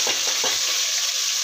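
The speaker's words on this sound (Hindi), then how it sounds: "तो अब हम ये मसाला भी ऐड कर देंगे इसके अंदर।" Ground spice masala added to potato and spinach bhujia frying in a pan, giving a bright continuous sizzle with a few soft stirring scrapes at the start, close and alone.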